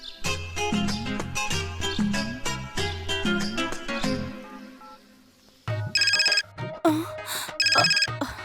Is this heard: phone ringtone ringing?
yes